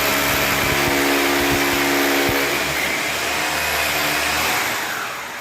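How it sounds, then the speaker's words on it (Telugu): A drilling machine with a 6 mm bit bores holes in a wall for fixing an LED tube light, a loud steady whine with rough grinding bursts, easing off near the end, no voices. "డ్రిల్లింగ్ మిషన్ తోటి మార్కింగ్ చేసుకున్న తర్వాత మనం 2 హోల్స్ అయితే వేసుకోవాలి"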